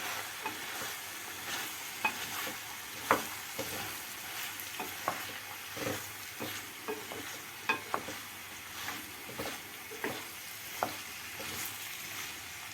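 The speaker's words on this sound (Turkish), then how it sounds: "Şöyle bir karıştıralım." Chopped peppers and other vegetables for mıkla sizzle softly in a pot while a utensil stirs and scrapes through them, with occasional sharper knocks against the side.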